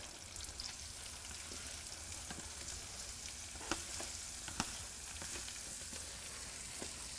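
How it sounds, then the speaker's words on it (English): Faint, steady sizzling of mushrooms and onions frying in a pan, with a few soft clicks and taps of stirring. "See that nice sizzle, that sound that you're getting there?"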